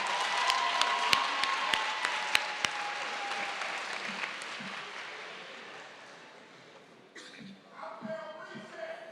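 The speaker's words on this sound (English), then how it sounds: "Let's give Dr. Webb another applause" Sustained audience applause at the John Adams College and Career Academy graduation ceremony, with dense clapping that slowly thins and fades, followed by shuffling and a few voices near the end.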